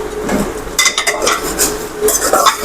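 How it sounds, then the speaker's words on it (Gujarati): Ginger garlic paste being stirred into softened tomatoes in a pan, heard as close clinks and scrapes of a spoon against metal over a faint sizzle. "હવે આપણે તેમાં આદુ લસણની પેસ્ટ નાખી દઈએ અને આપણે તેને સારી રીતે હલાવી લઈશું"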